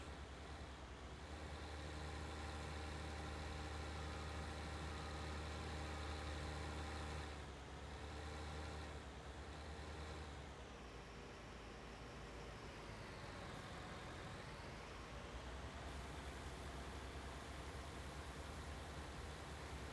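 Tractor engine from Farming Simulator 19 on a Midwest farm map, running steadily as it maneuvers and turns, a continuous loud drone with a deep low rumble that shifts slightly in pitch partway through.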